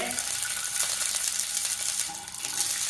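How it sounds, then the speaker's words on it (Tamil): Sliced onions with garlic cloves and green chillies sautéing in a pan for a vegetable white kurma, a close, continuous sizzle with a few scraping stirs and one brief dip in level. "5-6 வெங்காயம் எல்லாம் போட்டு நம்ம வதக்குறோம்"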